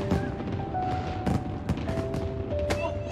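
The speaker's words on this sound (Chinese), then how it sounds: "哎，放烟花了，放烟花了！" Fireworks burst at a New Year celebration as a series of sharp, booming cracks at irregular intervals over a steady background hum, fairly loud but somewhat distant.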